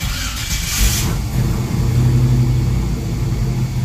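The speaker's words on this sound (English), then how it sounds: "I'm going to fire it up real quick so you can see that oil pressure go up." A FiTech Ultimate LS V8 fires up, with a brief cranking burst followed by a loud, steady low idle rumble close by and no talk.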